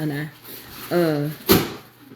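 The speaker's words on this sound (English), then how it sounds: "Open the drawer and put it in the drawer." A household drawer slides open or shut with a short scraping thud, heard close by alongside children's voices talking in a home kitchen.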